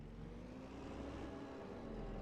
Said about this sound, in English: let me go back to live so you can hear the tractor